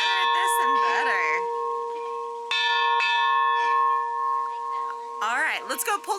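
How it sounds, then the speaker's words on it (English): A big bell rung by children at the Kansas City Northern Railroad clangs in three separate strikes, each ringing out with a long, bright tone that slowly fades, and a voice can be heard faintly between the strikes. "Oh, it is a big bell."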